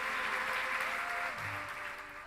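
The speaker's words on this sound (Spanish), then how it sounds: "les pido por favor un fuerte aplauso para José María Ormaechea" Applause at a book presentation honoring José María Ormaechea, a dense and fairly quiet wash of clapping with a faint tonal voice or whistle passing through, tapering slightly over two seconds.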